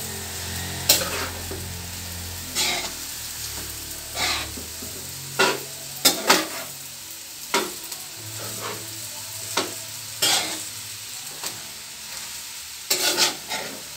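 Bihon rice noodles being sautéed in a pan, a continuous sizzle broken by a dozen or so sharp scraping strokes of a spatula stirring and tossing them at a loose, uneven rhythm, close and fairly loud.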